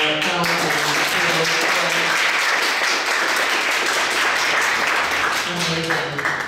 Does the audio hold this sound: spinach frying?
no